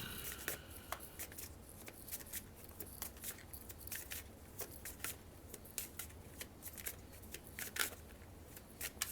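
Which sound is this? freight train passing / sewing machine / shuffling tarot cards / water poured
shuffling tarot cards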